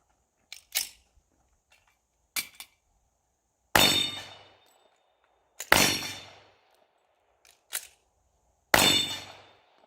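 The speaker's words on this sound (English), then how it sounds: "Nice shooting, Tex." Gunshots ring off steel targets at an outdoor shooting range: six sharp reports in irregular succession, each followed by a short metallic clang and decay, loud and close with near silence between.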